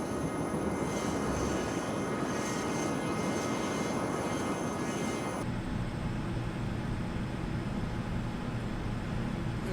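Lockheed T-33A jet aircraft taking off, a loud continuous engine roar with high whine that holds steady and then shifts to a duller, deeper rumble as it climbs away.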